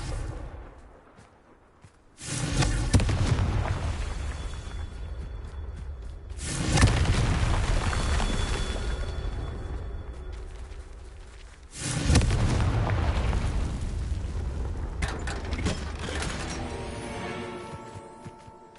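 Explosive Confringo spell blasts in the Hogwarts Legacy video game, three loud booming bursts a few seconds apart, each followed by a sustained rumbling roar that fades before the next.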